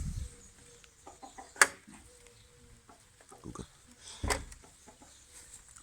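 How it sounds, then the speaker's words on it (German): Roosters shut in a coop wait to be let out, crowing and clucking in scattered bursts, one sharp crow cutting through near and loud, while someone talks quietly among them. "Die warten schon, die Hähne."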